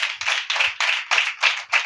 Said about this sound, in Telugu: చప్పట్లు కొట్టండి సార్.